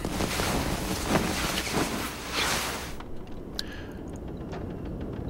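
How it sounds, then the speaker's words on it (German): Stormy wind in the video game The Long Dark, a loud rushing gust roaring for about three seconds, then dropping to a quieter, hollow blustery background with a few faint knocks. "Stürmisches Wetter."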